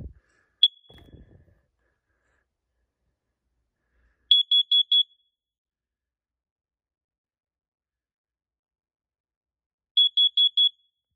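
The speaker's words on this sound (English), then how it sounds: "just realized I forgot to test the first alert carbon monoxide alarm" A First Alert carbon monoxide alarm under test sounds two groups of four sharp, loud, high-pitched beeps, spaced several seconds apart with silence in between, after a brief handling noise at the start.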